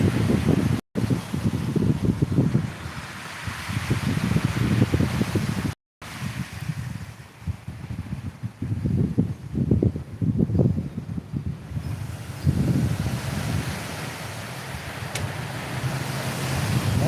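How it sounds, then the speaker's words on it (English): Strong wind in Alberta, Canada roars and buffets the microphone in heavy gusts, with a couple of brief dropouts and a sustained rushing sound throughout. "it's windy today"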